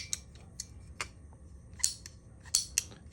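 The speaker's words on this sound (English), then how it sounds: "I took a piece of 1/2 inch PVC pipe and I cut down just a small piece" A small piece of half-inch PVC pipe being cut, giving several sharp, close snipping clicks at irregular intervals over a quiet background.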